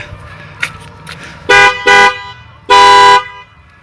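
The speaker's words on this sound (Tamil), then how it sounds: "ஹார்ன் அடிக்க உங்களுக்கு காமிக்கிறேன் பாருங்கள்" A Maruti Suzuki Eeco car horn with extra fitted horns honks three times, two quick blasts followed by a longer one, loud and close, after a few softer clicks.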